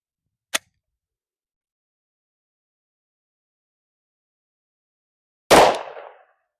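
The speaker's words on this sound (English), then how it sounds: "Next up, that Glock 30 and 45 caliber shooting the Winchester T Series 230 grain plus P." A Glock 30 pistol in .45 ACP fires Winchester T Series 230 grain +P rounds. A tiny sharp click sounds first, then after long silence a single loud, close shot with a short decaying tail.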